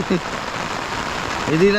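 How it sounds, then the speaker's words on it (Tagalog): Heavy rain falls steadily during a birthday gathering, a dense, continuous hiss with brief voices breaking in near the start and end. "Kasi napakalakas ng ulan."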